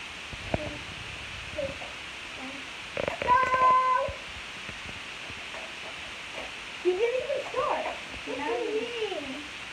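In a racing video game a cat meows several times, short mid-pitched cries around and after a brief clattering hit, with soft game sounds underneath and a person talking over parts of it.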